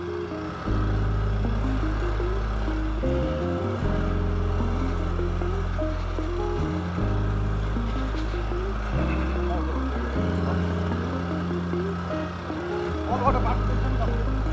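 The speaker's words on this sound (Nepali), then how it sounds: "ल यता स्कुटर लिएर आइरहेछ" A scooter rides along a road to a hidden waterfall near Kathmandu, its engine a steady close hum throughout that rises a little near the end, with voices talking over it.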